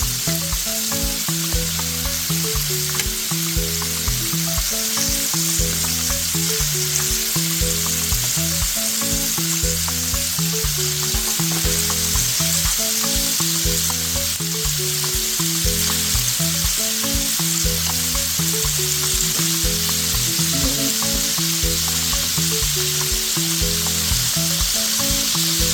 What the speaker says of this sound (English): the fish been frying for about 8 to 10 minutes now